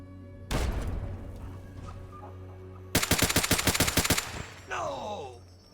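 Gunfire in Fallout: Tale of Two Wastelands: a single heavy shot, then after a pause a rapid burst of about a dozen evenly spaced rounds, followed by a fading ringing tail.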